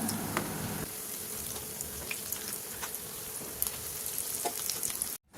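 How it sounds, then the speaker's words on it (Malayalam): Snacks frying in hot oil over a medium-high flame, a steady loud sizzle and crackle with scattered pops running nearly the whole time before cutting off abruptly at the end. "നമുക്കിതൊന്ന് ജസ്റ്റ് ഒന്ന് ഫ്രൈ ആയിട്ട് കിട്ടാൻ വേണ്ടിയിട്ട് മാത്രമേ ഉള്ളൂ."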